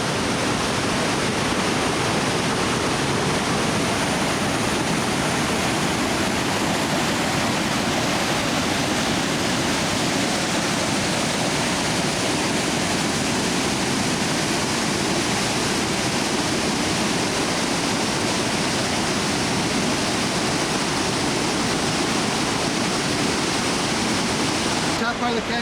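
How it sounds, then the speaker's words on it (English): Rushing water pours through Sooke canyon on Vancouver Island, a loud, steady, unbroken roar that fills the whole stretch with no pauses. "Is that not a breathtaking sight of running water or not?"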